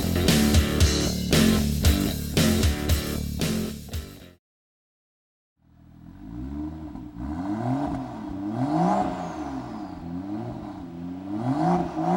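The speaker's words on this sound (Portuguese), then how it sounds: "é só acelerar esta nova geração do Ford Mustang" A new-generation 466 hp Ford Mustang engine revs up and down in repeated swelling waves, loud and close, after a burst of loud music and a brief silence.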